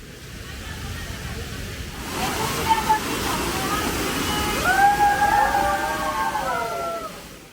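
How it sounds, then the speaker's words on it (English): The 65-foot, multi-tiered Rady Waterfall near the base of the Africa Rocks Trail at San Diego Zoo gives a steady, broad rushing of falling water. It swells slightly midway, and thin whistling tones sweep over it toward the end. "Near the base of the Africa Rocks Trail is the Rady Waterfall, which is a 65-foot multi-tiered waterfall."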